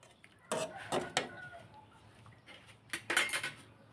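A metal spoon is lifted out of a pot of tom yum goong: a few close clinks and clatters of metal on metal in short bursts, with a faint quiet background between them.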